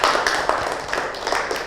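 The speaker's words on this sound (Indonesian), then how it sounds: "Tepuk tangan." A classroom of students clapping for classmates during a lesson on office layout, a brief burst of many hands clapping together at close range.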